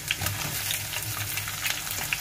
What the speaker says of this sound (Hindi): अब हम इसमें प्याज डालेंगे